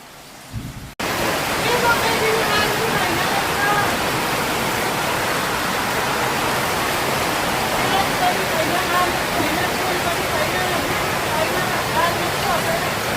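A dense, steady roar of heavy rain starts abruptly after a brief quiet moment and continues unbroken at high loudness.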